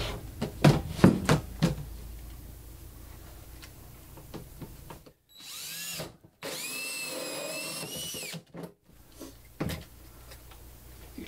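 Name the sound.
drill cutting with 1 7/8 inch hole saw bit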